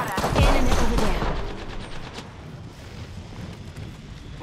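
Rapid gunfire rings out in the Apex Legends video game, a loud burst of automatic shots at the start that eases into continued sporadic firing, with a faint voice briefly under it.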